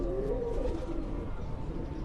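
Pigeons on a rooftop in Gorali, Gujrat, among them a large, old bird, cooing in a low, continuous rolling murmur close by.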